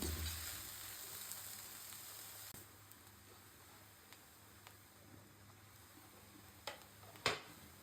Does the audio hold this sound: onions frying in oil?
yes